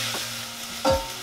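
A spoon scraping and stirring through food in a pan, with a soft sizzle in the background, during chicken katsu curry preparation, capped by one sharper, louder clunk near the end, close and without speech.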